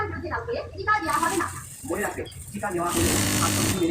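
A sewing machine stitches the back panel of an adult's one-piece Punjabi garment, its motor running in bursts close by while a voice talks over it.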